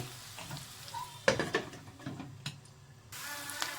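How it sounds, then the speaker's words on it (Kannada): Capsicum and onions frying in a pan for a paneer egg curry, with a steady close sizzle, a couple of sharp stirring scrapes and clatters near the middle, and the hiss swelling again toward the end. "ನಾನು ಇದರಲ್ಲೇ ಫ್ರೈ ಮಾಡ್ತಾ ಇದ್ದೀನಿ ಎರಡು ನಿಮಿಷ ಫ್ರೈ ಆಗಲಿ"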